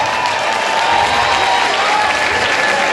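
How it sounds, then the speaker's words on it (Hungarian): A concert audience applauds at a rock concert in Hungary, a dense, steady wash of clapping from a large crowd that stays loud and even throughout, with no pause. "Még egyszer Norbi, nem újja egy tapsot Norbinak, gyere hajolj meg."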